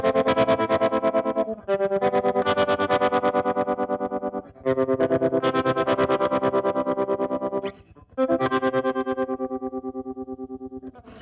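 Electric guitar with a bridge humbucker playing a repeating arpeggio through a vintage 1960s Supro 16T amp with obvious tremolo, giving a steady pulsing warble, loud and close, in several phrases separated by short gaps, with no talking.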